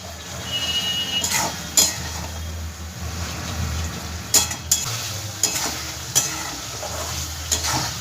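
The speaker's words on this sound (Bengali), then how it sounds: "একটু কড়াইশুঁটিটাকে মশলার সাথে ভেজে নেব" Shelled green peas fry with spices in a wok, a low continuous sizzle broken by several sharp spatula scrapes and clinks against the metal.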